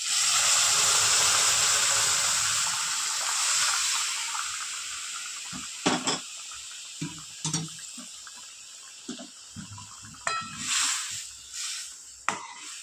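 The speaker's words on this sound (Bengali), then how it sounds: "এবার সিদ্ধ করে রাখা ডালটা দিয়ে দেবো।" Boiled lentils go into a hot pan for a tomato and coriander dal: a steady hiss gives way to wet plops, splashes and scattered stirring knocks, close by.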